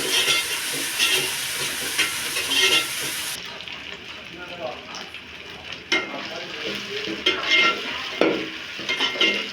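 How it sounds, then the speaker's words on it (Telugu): Ginger garlic paste stirred and fried in a home kitchen pan, a steady loud sizzle with repeated scraping and stirring strokes throughout, close and continuous. "ఒక స్పూన్ అల్లం వెల్లుల్లి పేస్ట్ వేసుకొని బాగా కలుపుకుందామండి పచ్చివాసన పోయే వరకు బాగా వేంపుకోవాలండి"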